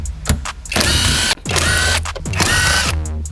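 Ratchet wrench clicking rapidly while loosening 12 mm bolts on a 2022 Subaru BRZ shifter, three loud close bursts of dense ratcheting with short pauses between them.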